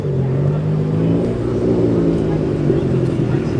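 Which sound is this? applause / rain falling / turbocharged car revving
turbocharged car revving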